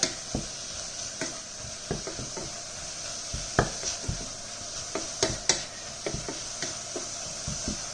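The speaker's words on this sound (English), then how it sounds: "Mix it in with the vegetables, so all those flavours are going to be cooking in together." Beef frying with vegetables in a pan, a continuous close sizzle broken by frequent sharp scrapes and clacks of a utensil stirring, irregular and fairly loud.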